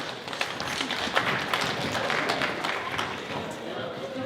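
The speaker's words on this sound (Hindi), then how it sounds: "एक बार फिर से जोरदार तालियां।" A crowd at an Indian community kirtan night breaks into dense, continuous applause, many hands clapping at once, with a murmur of voices mixed in.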